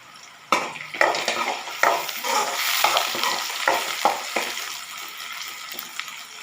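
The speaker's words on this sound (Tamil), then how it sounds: "நல்லா வதங்குறதுக்கு கிளறி விடுங்க" Onions being sautéed and stirred in a pan for a jalebi fish curry: close, crackling sizzle broken by repeated sharp scrapes and knocks of the spoon against the pan, irregular in rhythm, with no voices.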